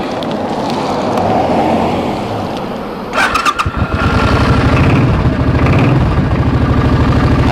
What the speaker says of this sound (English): I like the sound of this bike.